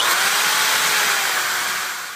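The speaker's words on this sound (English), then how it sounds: "When drilling, I start about 1 inch from the end of the log" A power drill bores holes into a log for shiitake mushroom dowels, giving a steady, loud, broadband whine close by that holds for about two seconds and then starts to taper off.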